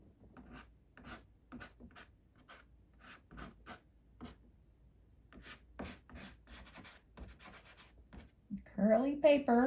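Brush or pastel strokes rubbing and blending on paper during painting, a run of soft rhythmic scratchy swipes at close range, ending with a louder burst of tonal sound.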